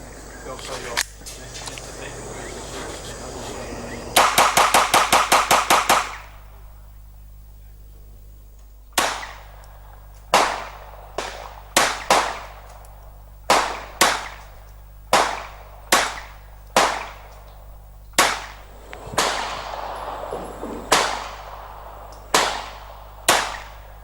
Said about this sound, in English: Let's put it through rapid fire and just see how reliable the action is.